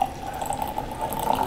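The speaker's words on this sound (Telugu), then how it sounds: "హాట్ వాటర్ యాడ్ చేస్తున్నాను" Hot water poured into a creamy keto coffee mixture, a brief steady pouring trickle close by, alone without speech.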